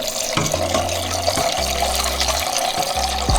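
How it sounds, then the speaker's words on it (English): Water pours steadily into a container while a drink mix is being made, a close, continuous gushing fill sound with a few brief shifts in flow and no talking. "Throw some water in this bad boy."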